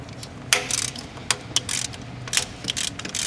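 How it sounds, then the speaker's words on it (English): A ratchet wrench clicks in quick uneven bursts while loosening a 10 mm bolt on a four-cylinder Honda engine near the thermostat housing, close and fairly quiet with no talk. "Next we'll remove this top 10 millimeter bolt."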